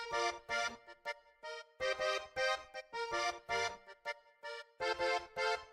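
Layered koriana melodies made in FL Studio, one panned left and another set back in the mix, play as a rhythmic, pulsing phrase of bright plucked notes in repeated bursts with short gaps, loud and without talk.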